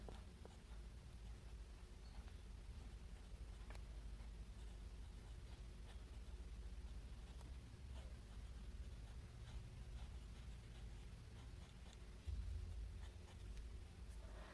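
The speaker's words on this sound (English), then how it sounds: "As usual with this nib, I can really hear it on the paper, but it feels very pleasant." A Kaweco Perkeo fountain pen with a stainless steel medium nib scratches steadily across paper, a soft continuous rasp with small pauses between strokes, close and quiet.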